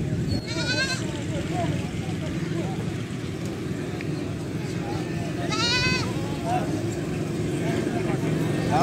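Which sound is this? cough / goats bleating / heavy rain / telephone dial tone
goats bleating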